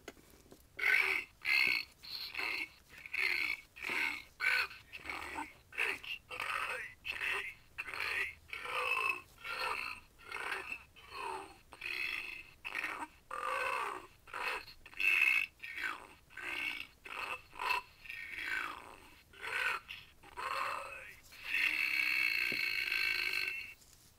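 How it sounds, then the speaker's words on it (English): A puppet-show performer burps the alphabet from A to Z, producing a long run of distinct, rhythmic belches one after another, each short and evenly spaced, close and loud, ending with one longer drawn-out burp. "Now, for the dumbest A to Z burp."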